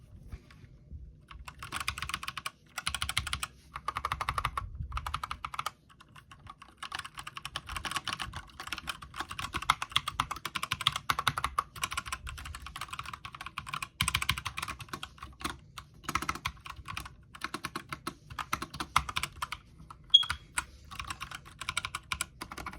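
Brisk typing on a mechanical keyboard fitted with Holy Panda switches, a dense run of close, tactile clacks with brief pauses between bursts, heard alone and fairly quiet.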